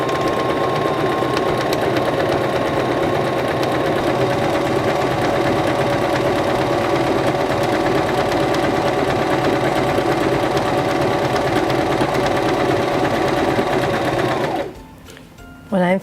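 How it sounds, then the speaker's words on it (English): A Singer Start sewing machine stitches fabric in one steady, loud, continuous whir with a faint rhythmic knock, running close and alone for about fifteen seconds before stopping abruptly. "Placing our fabric underneath our presser foot, we'll lower our presser foot, press down on our foot control,"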